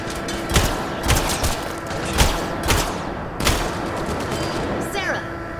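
Gunfire from the video game Mass Effect: Andromeda: steady, evenly spaced shots, roughly every half second, over a constant background hum, with fainter pops between the main blasts.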